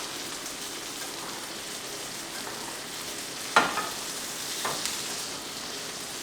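Elk meat browning in a hot pan, a steady soft sizzle like light rain with a sharp clatter partway through and a couple of quieter knocks after.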